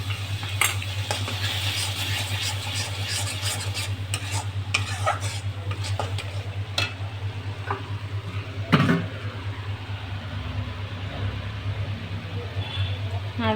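Spice paste with onion and garlic sizzles in hot oil in a pan for a prawn malai curry, with a steady fry and repeated scraping stirs of a utensil, close and loud.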